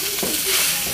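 Eggplant with egg frying in a pan, slightly burnt, a steady bright sizzle with a brief stir for about a second, close and continuous.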